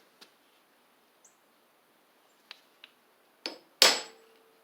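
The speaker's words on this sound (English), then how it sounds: "And take a hammer" A few sharp metallic hammer knocks driving a ring onto a shaft on a Poulan Pro riding mower, spaced apart in a quiet room, the last strike loudest and ringing briefly.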